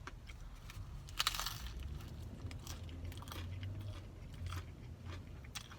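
Crunchy Taco Bell double-stacked taco shell with nacho cheese sauce being bitten and chewed close up, a sharp crackling bite followed by steady, muffled chewing.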